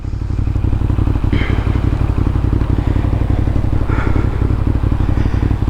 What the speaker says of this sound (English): gonna do another quick little blast down to the end of the block there and come right back